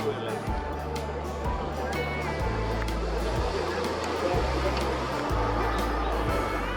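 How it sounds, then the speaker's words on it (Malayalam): An aircraft engine roars during take-off at the 2025 Navy Day final rehearsal. The sound is a loud, steady, continuous broadband rumble that holds for the whole stretch, with faint background voices beneath it. "എഞ്ചിൻ്റെ ശബ്ദം ഇവിടെ കേൾക്കാം. ടേക്ക് ഓഫിൻ്റെ സൗണ്ടാണെന്ന്."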